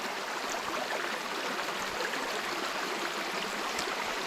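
A creek flows steadily beside a hiking trail on Pine Mountain, a continuous broadband rush and trickle of running water, close and even throughout with no talking.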